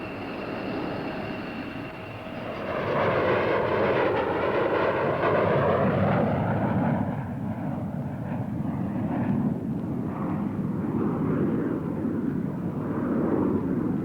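An F-15 fighter jet passes at an air show with a loud, swelling roar that builds, sweeps through a shifting whine as it goes by and then lingers as a broad rumble. No one speaks.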